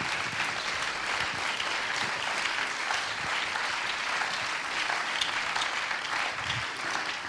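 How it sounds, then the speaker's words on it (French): Audience applause at a film premiere, steady sustained clapping from a full room that continues evenly throughout without pause. "Sous vos applaudissements."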